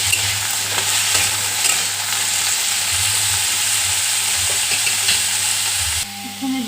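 Potatoes frying in a pan with a filling, a steady loud sizzle running unbroken under faint stirring scrapes, with a brief dip near the end.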